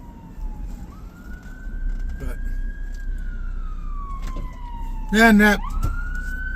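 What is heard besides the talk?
ambulance siren passing on the road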